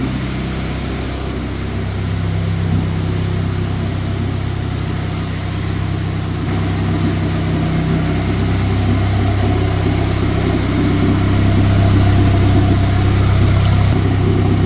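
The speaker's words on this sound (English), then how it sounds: "She is running beautifully." Turbocharged Honda Civic engine running steadily and loud for the whole stretch, a low droning idle with slight rises in pitch as it revs, no voices over it.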